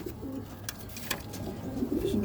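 Young racing pigeons cooing softly in a loft, a few low, breathy coos repeating over faint background noise with no talking.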